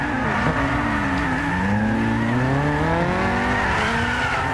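A car drifts in the racing game Gran Turismo 6, its engine droning loudly with rising and falling pitch while the tires squeal and skid continuously throughout, with no talk.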